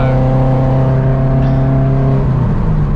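A Honda K-series car engine revs loud and close in first gear at about 3,000 RPM, holding a steady, throaty drone that shifts slightly in pitch near the end.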